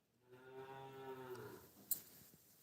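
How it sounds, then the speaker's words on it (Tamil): A single cow gives a long, low moo at moderate distance, drawn out over about a second and then trailing off, with faint background noise and no talking. "மாடு கூப்பிடுது."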